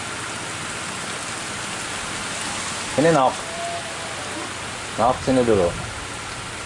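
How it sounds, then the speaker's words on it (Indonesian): Steady rain falls in a broad, even wash throughout, with two short bursts of nearby talk over it. "Tuh sekarang cuacanya lagi turun hujan sahabat."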